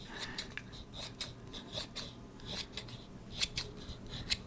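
Scissors snip hair close up during a soft-spoken haircut roleplay, a steady run of short crisp cuts with a couple of sharper snips near the end.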